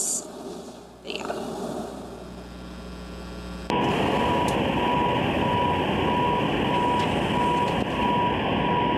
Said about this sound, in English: So tell us if you can hear a beeping in this video.